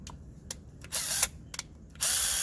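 A Worx power drill in drill mode makes short, loud bursts of whirring and ratcheting clicks separated by brief pauses, heard up close with no talking.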